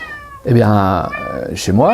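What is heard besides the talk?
cat meowing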